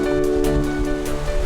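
Strong sea waves surge around Dokgodo island in fast Kuroshio-current waters, making a loud, continuous wash of churning surf with faint tonal music underneath.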